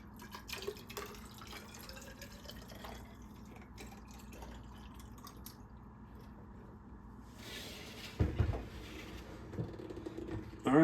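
Water added to infused banana brandy (Ugandan waragi) to bring down its proof: quiet drips and a trickling pour, ending in a few louder splashes and bumps toward the close.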